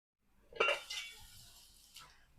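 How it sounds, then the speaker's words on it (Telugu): A metal lid set down on a pot of egg and garlic chilli curry, giving one clear clink and rattle followed by a fainter second tap, close by with no talking. "ఇప్పుడు మూత పెట్టుకుందాం"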